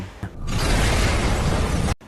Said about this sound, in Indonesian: Setelah itu tiba-tiba terjadi ledakan bom.